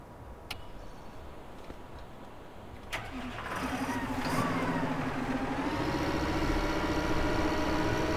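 A tractor in Farming Simulator 2015 starts up with a click and a sharp crank, then settles into a loud, steady mid-pitched engine hum that continues to the end.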